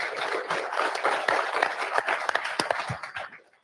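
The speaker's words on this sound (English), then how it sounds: "give him a round of applause" Audience applause for a speaker at a live driver meeting, a dense patter of many hands clapping close and steady, fading out at the end.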